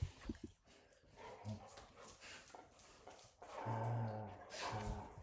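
Dogs at a home make brief whimpers and soft vocal noises, short and intermittent, against a quiet background.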